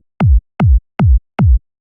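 Soloed synthesized sine-wave sub bass from a trance kick drum, heard as four evenly spaced deep thumps with pitch dropping quickly on each hit, loud and dry with no other sound.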